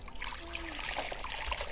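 Bleach water trickles and splashes as it is poured carefully down the inner walls of a desert rose plant pot, a continuous close, light dribbling stream.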